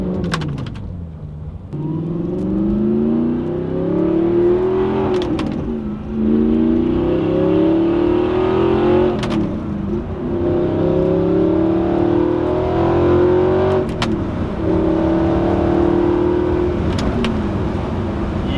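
An Audi R8 with a gated manual gearbox pulls away and accelerates through several gears, engine note climbing and dropping at each shift with a loud, close rumble and brief clicks between revs, no talking.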